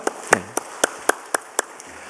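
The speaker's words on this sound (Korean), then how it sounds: "저기 계신데 우리 뜨거운 박수로 위로하십시다." Applause from a church congregation during a Sunday service comes as a short run of crisp, evenly spaced claps, about seven in two seconds, close and clear over a quiet room.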